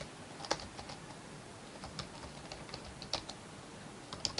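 Fingers type on a computer keyboard, a quiet irregular patter of key clicks with a few firmer taps, close and alone.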